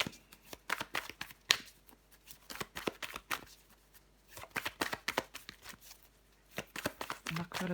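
Tarot cards being shuffled, handled and laid down on a table: soft, quiet flicks and taps in irregular clusters, close and gentle, with no voice over them.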